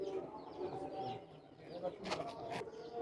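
Imported Pakistani high-flying pigeons coo softly in a loft, low repeated rounded calls blending with quiet background noise and a couple of brief sharper sounds.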